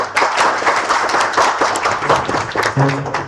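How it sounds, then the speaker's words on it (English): A room at a tech user group meetup breaks into applause closing a session, dense overlapping claps from a crowd, fairly loud, with a brief voice near the end. "A big round of applause for"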